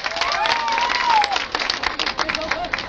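Crowd applause and cheering for a young mother who danced reggaeton, clapping under loud talk from a host amid a lively audience.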